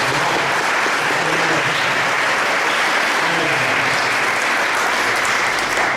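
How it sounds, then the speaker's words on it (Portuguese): Sustained audience applause at a pastor's talk, loud, dense and steady throughout, with no speech over it. "Vocês podem dar uma salva de palmas?"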